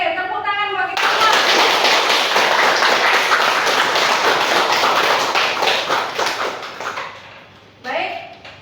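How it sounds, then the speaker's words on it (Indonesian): A group in a classroom bursts into loud, brisk hand clapping that runs for several seconds before tapering off, with a voice speaking briefly before and after. "tepuk tangan buat kita semua"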